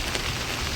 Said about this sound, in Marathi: पाऊस लय जोरात चालू आहे